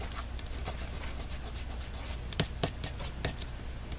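Fingers rub leftover glue off a handmade paper card, a steady close-up dry scuffing that runs throughout, with a few sharper scraping strokes toward the end and no voices.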